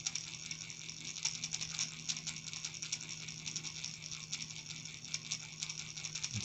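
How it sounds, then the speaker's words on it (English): An electric-powered homemade air engine drawing air from a glove, giving a steady fast mechanical clatter with a faint constant hum, close and moderately quiet, with no one talking. "By powering this, I'm sucking the air in."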